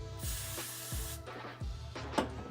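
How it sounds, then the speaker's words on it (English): Pump spray bottle misting an edge control brush during hair styling, a few short hissy bursts spaced about a second apart, close and fairly quiet with no talking. "spray your edge control brush first."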